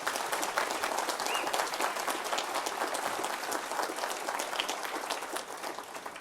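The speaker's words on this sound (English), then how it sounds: "Can we give him a proper round of applause" Dense, sustained applause from a conference audience greeting a speaker, loud and steady throughout with no pauses or voices.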